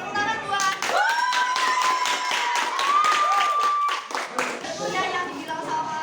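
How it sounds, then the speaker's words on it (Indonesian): A classroom breaks into a burst of hand clapping, with sharp claps layered over voices and a whistle-like tone throughout. "oke, tepuk tangan buat."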